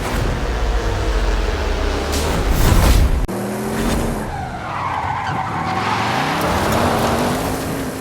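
Audi RS7 Sportback in a racing video game, loud engine revving with tyres skidding and screeching through a hard turn, the engine note climbing again after a brief cut.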